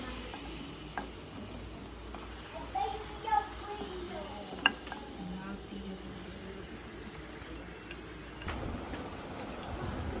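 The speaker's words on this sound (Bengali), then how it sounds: "আলুগুলোকে বাদামি কালার করে ভেজে নেব" Potato pieces deep-frying in oil to a light brown as French fries, a soft continuous sizzle with a few clinks and scrapes, fairly quiet, ending in a brief lull.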